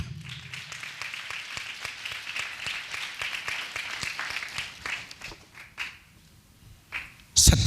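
An audience at an annual prayer festival in Nagpur claps loudly and continuously for about six seconds before the applause thins and fades, then a brief louder burst of sound cuts in at the end.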